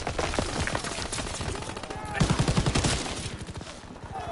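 Repeated bursts of automatic fire in a war video game crackle in quick rhythmic volleys, moderately loud, under a continuous bed of game sound and speech.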